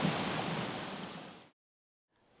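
A river rushes beside a hiking trail as a steady broadband wash of flowing water, close and fairly loud, cutting out abruptly to silence before resuming faintly.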